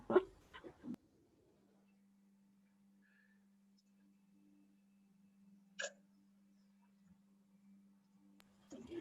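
A dog at home barks a few times, short sharp yaps at the start and one more a few seconds later, faint and distant over a steady low hum and quiet room, with no talking.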